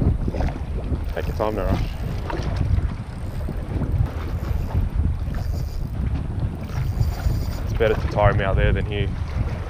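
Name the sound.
wind at Sydney Harbour while fishing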